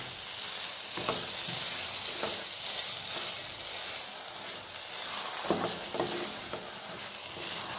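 Wheat kesari being stirred in a pan after jaggery is added, a soft continuous sizzle with periodic scraping strokes of a spoon against the pan, close and fairly quiet.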